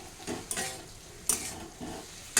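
Fried potatoes go into a pan of spiced mustard oil for a snakehead fish curry, giving quick stirring scrapes and soft sizzling in a few short bursts, with sharp utensil clinks against the pan.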